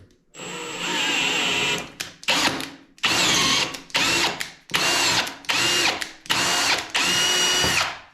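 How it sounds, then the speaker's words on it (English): A power drill whirs in a series of short bursts, about seven, each spinning up and stopping with brief pauses between, close and loud, while stripping parts from a turbo Firebird. "And yes, I'm gonna use a drill."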